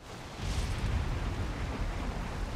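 Thunder from a lightning storm over the ocean in Valheim, heard as a broad, low rumble that swells and rolls on steadily while sailing, with no voices.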